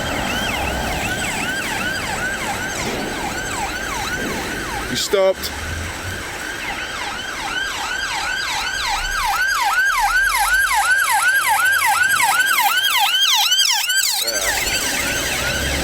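An ambulance siren wails in rapid repeating sweeps at a roundabout in Stirling, Scotland, growing louder as it passes amid road traffic, with a brief spoken remark partway through.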